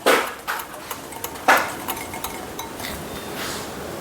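Rhythmic beating of ghee in a bowl, with a few sharp clinks of the utensil against the rim and then steadier, softer whisking strokes, close and alone without any voices.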